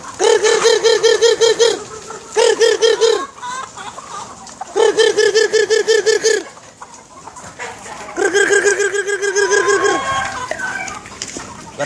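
Hens clucking in repeated bursts, loud and close, with short pauses between and a softer stretch of mixed fowl calls; a few distant voices talk faintly underneath.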